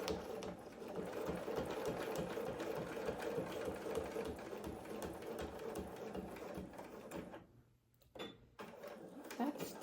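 A sewing machine runs steadily while stitching an oven mitt, a dense continuous mechanical whir that breaks off briefly near the end with a short restart.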